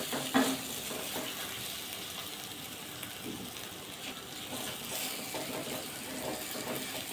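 Ground cashew paste frying in a pan on low heat for fish korma, a faint steady sizzle with occasional scraping strokes of a stirring spoon, close but quiet, no talking.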